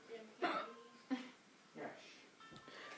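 A woman hiccups several times in quick succession over about three seconds, each one a short, soft, voiced catch in the throat, heard quietly and close by.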